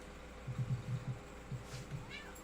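Two cats meowing indoors, a run of short, soft calls repeated in quick succession, then a few more after a brief pause, faint against a quiet room.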